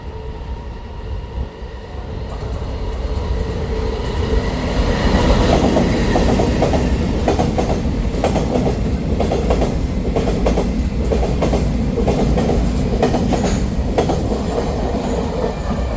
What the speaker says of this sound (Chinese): 第一月台将会有列车通过